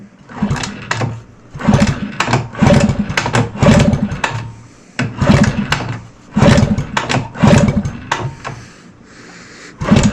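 A Puch Magnum X moped's kickstart lever kicked over repeatedly, loud close mechanical clunks and whirring bursts in a regular rhythm of about eight strokes, with short pauses between.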